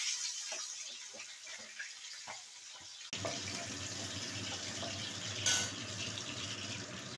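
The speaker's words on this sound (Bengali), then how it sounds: "এই তেলেই কেটে রাখা আলু লবণ ও হলুদ গুঁড়ো দিয়ে ভেজে নিচ্ছি।" Cut potatoes frying in oil with salt and turmeric in a Bengali fish curry kitchen, a steady hissing wash that starts quieter and jumps louder about halfway, continuous and close with no talk.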